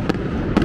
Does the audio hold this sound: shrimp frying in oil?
no